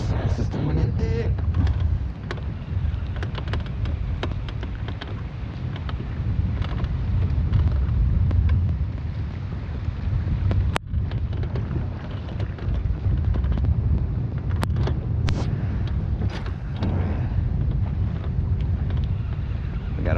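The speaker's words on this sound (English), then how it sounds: "We gotta fight the wind" Wind buffeting a microphone on a lake during bass fishing, a loud continuous low rumble with gusty swells and a few sharp knocks, no voices.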